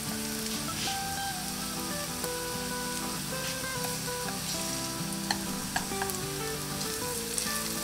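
Burdock root roasts in a pan over very low heat, giving off a steady, close sizzle with faint crackles and small pops throughout. Soft background music plays underneath.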